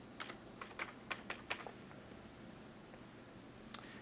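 Short run of keystrokes on a computer keyboard, about eight light clicks in quick succession followed by a single later tap, faint over a low background hum.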